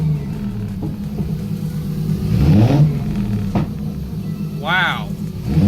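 A stock-block RB26 six-cylinder with a single turbo in an S14 on its first pulls, engine droning and rising in revs, with a voice exclaiming over it.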